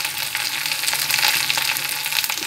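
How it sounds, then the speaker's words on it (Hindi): Onions and bhatt soybeans sizzle and fry together in a pan, a steady close crackle with brief stirring scrapes and no talking. "मैं प्याज और भट्ट को एक साथ भूनती हूँ,"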